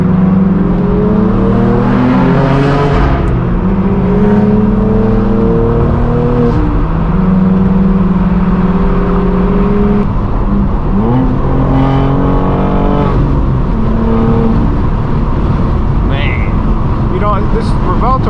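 Straight-piped BMW M4 G82 chasing supercars including Ferrari F8, SF90, Lamborghini Revuelto and McLaren on a public road, its loud exhaust droning and rising through repeated revs and gear changes, close and continuous.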